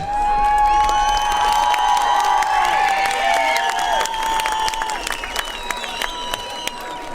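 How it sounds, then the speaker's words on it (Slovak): A crowd at a fight-night main event in Poltár cheers and applauds loudly and steadily, with whistles and shouts rising above the continuous roar of clapping. "Jeden obrovský potlesk."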